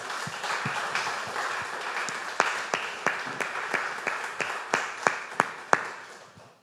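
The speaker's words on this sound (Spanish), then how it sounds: "Denle un aplauso al Señor, mis hermanos" A church congregation applauds in a dense, steady wash that breaks into separate, sharp claps before fading away.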